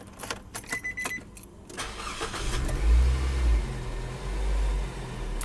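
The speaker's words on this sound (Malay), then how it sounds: "So saya akan hidupkan enjin." A car engine cranks over with a few stuttering starter bursts, then catches and settles into a steady low idle rumble, close by and clear, with no talk.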